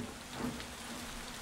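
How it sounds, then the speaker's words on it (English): Rain falls as a soft, steady hiss with faint patter, quiet and even throughout, with no voices over it. "Soon, however, the weather changed. The rain left the rails wet and slippery."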